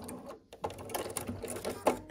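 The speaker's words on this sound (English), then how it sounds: "we just need to sew these last 2 seams" A sewing machine stitches seams on a quilt block, a steady close mechanical chatter running throughout with brief interruptions.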